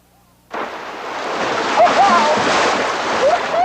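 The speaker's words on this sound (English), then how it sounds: "we're introduced to cold waves bouncing up and over the sides of our rafts" Cold river waves on the Dolores River splash up and over the sides of rafts, with a sudden loud rush of water that becomes a steady roaring wash, as faint bird-like chirps cut through.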